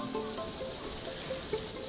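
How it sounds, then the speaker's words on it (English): A dense, continuous high-pitched trill comes from tens of thousands of crickets massed in vegetation, loud and unbroken throughout with no other sounds. "Just tens of thousands of crickets."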